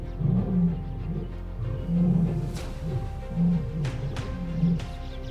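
A lion roars on the African savannah in a series of deep, rumbling calls, loud and close, with a few sharp clicks and noises between them and no talking.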